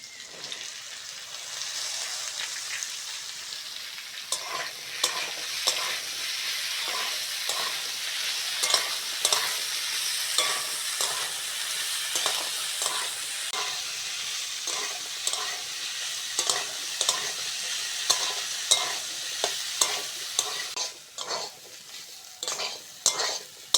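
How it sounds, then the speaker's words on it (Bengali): Broad beans and potatoes frying in a pan, with a constant bright sizzle and a long run of regular spatula scrapes and clinks against the pan, close and continuous with no voices. "বটবটি আলু ভাজা হয়ে গেছে নামিয়ে নাও"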